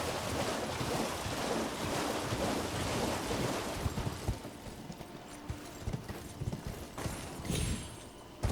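Horse hooves beat steadily while riding on horseback in the video game Elden Ring, a close clip-clop blended with wind-like rushing ambience.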